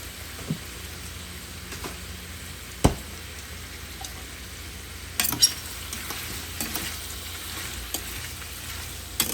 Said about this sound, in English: Okay, so we're just gonna let that fry up a little bit.